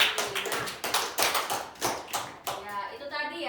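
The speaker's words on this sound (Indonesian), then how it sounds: "tepuk tangan untuk teman kita Mimi" Students in a seventh-grade classroom clap for classmate Mimi: a small group's sharp, uneven handclaps fade out, and a voice follows near the end.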